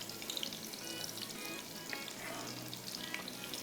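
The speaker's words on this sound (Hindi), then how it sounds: "चलिए, प्याज हमारा हल्का सा फ्राई होगा" Sliced onions frying in hot oil for a moong dal, a continuous dense sizzle with fine crackles, fairly quiet and steady with no speech.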